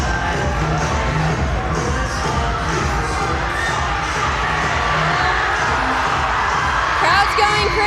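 A school gym crowd at a Thanksgiving assembly cheers and shouts loudly throughout, with children's whoops and yells over a steady roar that rises again near the end.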